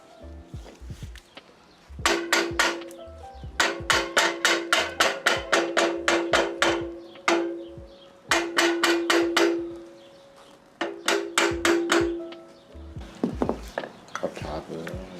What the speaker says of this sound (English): Give me that rubber mallet.